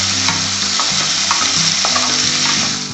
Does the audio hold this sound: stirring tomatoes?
yes